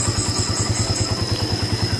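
Raider 150 motorcycle engine running just after being started with the starter button, a close, even, rapid low putter pulsing steadily with a faint whine above.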